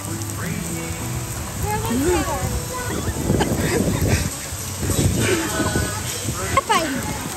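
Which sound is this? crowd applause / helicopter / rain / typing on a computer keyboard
rain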